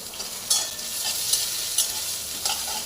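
Ginger and tomato frying in a pan, with a steady sizzle broken by about four sharp scrapes of a spoon being stirred through the mix, close and fairly loud, with no voices.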